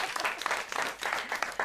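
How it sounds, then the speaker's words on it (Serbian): Studio audience applause on a Serbian TV talk show with folk singers, a dense, steady wash of clapping that carries on without a break from start to finish. "ajde aplauz!"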